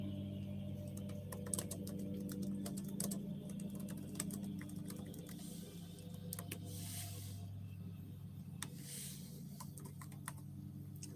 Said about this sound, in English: Why is typing so hard on my Chromebook?